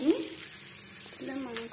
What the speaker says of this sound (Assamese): এবাৰ মাংস দি দিম।